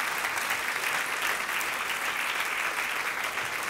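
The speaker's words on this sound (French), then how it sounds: "applaudissent bien fort le roi des rois" Congregation at a church service applauding loudly and steadily, a dense, even roar of many hands clapping throughout with no voices rising above it.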